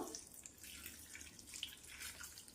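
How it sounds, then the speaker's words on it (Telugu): Water trickles and drips from a small vessel into a turmeric and salt chutney mix with vegetable pieces in a home kitchen, a faint, close, steady pour with light splashes and no talk. "ఇప్పుడు దీంట్లోకి కొంచెం నీళ్ళు వేసుకుందాం"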